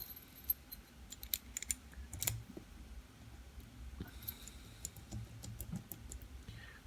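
Metal keys jangle and clink in short bursts as they are worked free from a Union cabinet lock, close and fairly quiet, with scattered sharp ticks and rattles over several seconds and no speech.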